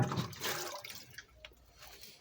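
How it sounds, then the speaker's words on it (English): Water sloshes and drips as it is drawn out of a drum in a backyard garden, a few close splashes followed by quieter trickles. "let me get some more water out the drum here."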